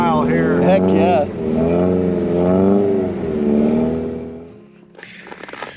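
A black truck runs an off-road course at an overland campout, its engine loud and close, rising and falling in pitch over several seconds, with people talking over it.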